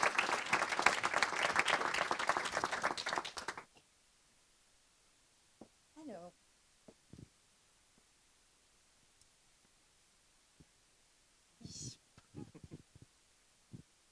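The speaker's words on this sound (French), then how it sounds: "Je voudrais juste qu'on fasse un petit applaudissement pour les remercier de tout ce travail-là" Listeners at an AI and HR awards ceremony give a brief, lively burst of applause lasting under four seconds, then the room falls nearly silent apart from a few scattered voices.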